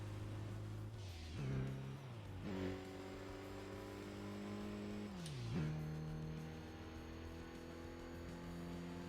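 A turbocharged car engine in the racing game Tokyo Xtreme Racer revs and spins up through several gear shifts, with a rising whine after each shift, steady and moderately loud with no talking.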